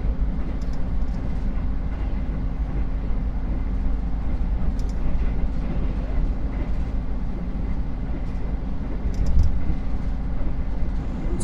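Argo Semeru passenger train arriving at Kutoarjo station, a continuous loud rumble and rolling rail noise with faint clanks, heard from on board or close by.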